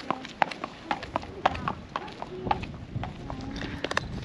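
Horse hooves clip-clop in an irregular rhythm close by at a show-jumping competition, with scattered sharp knocks and background voices murmuring.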